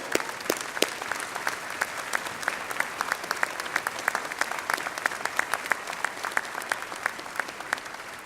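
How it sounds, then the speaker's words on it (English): Commencement audience applauding family members and supporters of the graduates, a steady wash of many hands clapping with sharp individual claps standing out throughout, moderately distant and sustained. "Let's applaud them."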